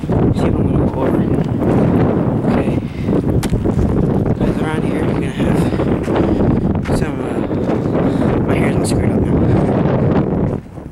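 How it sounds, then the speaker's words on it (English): Heavy wind buffets the microphone outdoors in Yellowstone National Park in a constant loud roar, with rustling and occasional thumps throughout. "Windy out here"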